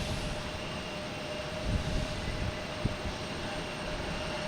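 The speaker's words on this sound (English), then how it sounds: "Next to come in is JetBlue. A321 coming from San Francisco." A JetBlue Airbus A321 airliner at Boston Logan Airport gives off a steady, distant jet rumble, a low, even roar heard alone with a couple of faint thumps.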